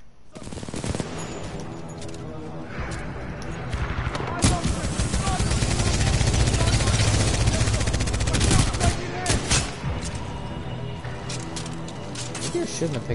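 Player's weapon firing in the sci-fi shooter Titanball 2, rapid bursts of automatic gunfire that swell loud through the middle of the stretch, layered over dense game effects with a voice talking over it.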